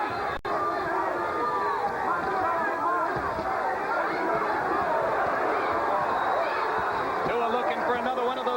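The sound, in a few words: boxing crowd chanting a fighter's name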